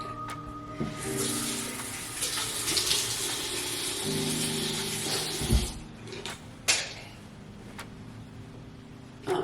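Water runs steadily from a bathroom tap, a moderate hissing splash with a few sharp knocks and clunks nearby, no voices.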